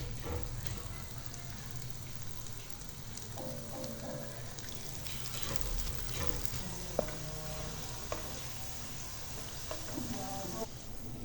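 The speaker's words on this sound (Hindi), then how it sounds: "घी गर्म हो गया, अब हम इसमें चिप्स डालते हैं।" Potato chips fry in a pan of hot ghee, giving a steady, dense sizzle and crackle throughout with a few louder pops and occasional utensil clinks near the middle and end.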